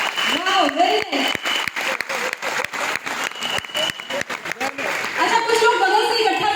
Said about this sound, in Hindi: एक बार तालियां सर के लिए, जोरदार तालियां